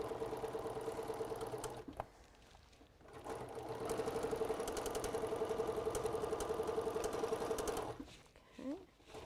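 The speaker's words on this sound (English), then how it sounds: "I'm going to sew 1/4 of an inch down the edge" A sewing machine runs steadily, stitching a quarter-inch seam along the edge of a fabric pillow, with a brief pause near the start, a long continuous run, then a stop and short voice at the end.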